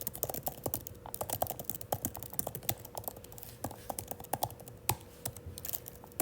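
A username being typed on a computer keyboard: a quiet, close run of irregular key clicks and taps, steady throughout with no voices.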